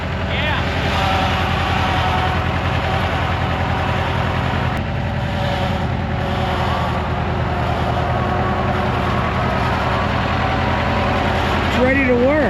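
An Allis Chalmers 644 articulated forklift, left sitting for over ten years, running with a loud, steady engine rumble close by, and voices talking over it throughout.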